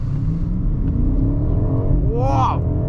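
A 2023 BMW 760i accelerating hard on boost, heard from inside the cabin as a rising engine rumble that swells steadily, ending with a brief excited shout over the engine.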